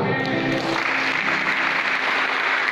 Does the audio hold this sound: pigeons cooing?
no